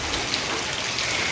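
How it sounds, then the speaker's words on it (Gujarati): Light village rain falls steadily, a soft, even hiss of drops on surfaces with no voices. "વરસાદ જો ધીમી ધીમી ધારણે ચાલુ છે"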